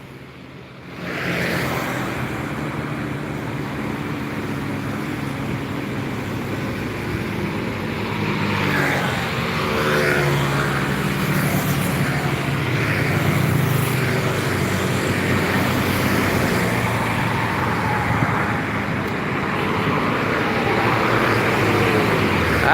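Road traffic, including buses and trucks on the route between Sumatra and Java, rumbles past continuously, a steady moderately loud wash of engine and tire noise with swelling passes and no talk.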